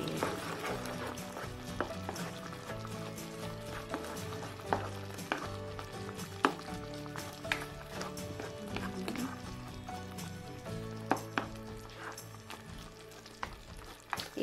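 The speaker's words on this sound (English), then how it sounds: "And then let's stir it." Unripe jackfruit simmering in coconut milk with a pinch of hot chili powder is stirred in a pan, giving a steady bubbling sizzle with repeated scraping clinks and knocks of the spoon; a voice briefly speaks once.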